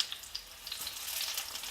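Eggplant frying in oil in a pan, a soft steady sizzle with faint crackles and pops throughout, no voices.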